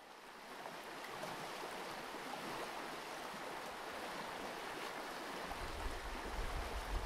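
The rapids of the Kellakoski river rush in a loud, continuous roar of churning whitewater, steady and close, with no voices.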